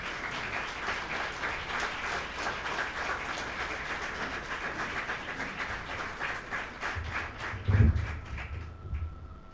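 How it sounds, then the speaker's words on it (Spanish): An audience at a cultural centre talk breaks into sustained applause, moderately loud and even, with a louder thump near the end as the clapping carries on. "Un fuerte aplauso, por favor."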